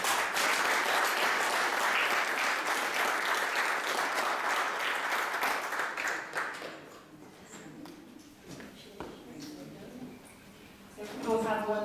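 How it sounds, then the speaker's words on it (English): Loud crowd applause at a Houses of Parliament education and leadership award ceremony, sustained clapping for about six seconds that thins into scattered claps and murmuring, with a voice speaking at the end. "Let's give her a big round of applause."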